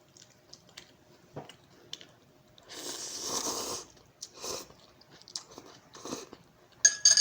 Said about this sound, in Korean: 생 실비김치도 라면이랑 먹어보겠습니다.